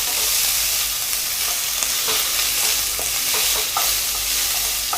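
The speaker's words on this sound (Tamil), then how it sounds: "அதாவது கோல்டன் ப்ரௌன் ஆகிற வரைக்கும் நம்ம நல்லா வதக்கிக்கலாம்" Onions sauté for Tamil country chicken curry in a pan over a low flame, giving a loud, steady sizzle with frequent stirring scrapes and no voices.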